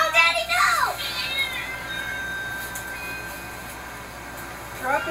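A cat up in a tree gives one loud, drawn-out meow at the start, with a second meow rising near the end over a faint outdoor background.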